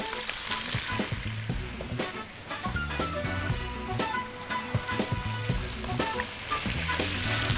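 Onion thrown into hot oil in a pan for a chicken dish, a loud close crackling sizzle broken by repeated clattering of a utensil stirring against the pan, with no talk.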